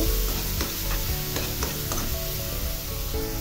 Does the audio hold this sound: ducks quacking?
no